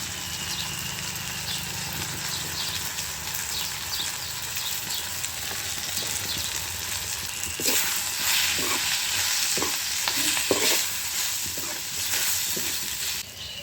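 Masala spices, red chili powder and turmeric, fry in a pan over a wood-fired stove with curry leaves and coriander for a pea and potato curry. A steady close sizzle runs throughout, with stirring scrapes and clicks in the second half.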